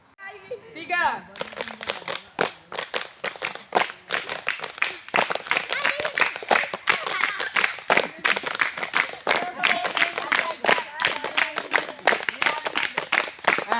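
Rhythmic hand clapping from a group, sharp claps in a repeating pattern, with a voice speaking over and between them.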